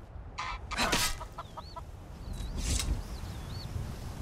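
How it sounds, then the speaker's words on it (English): Spectral chicken in a fantasy game, a few short clucks and rising chirps over a low rumbling background, moderately loud and close, with no talking. "there's a spectral chicken in your"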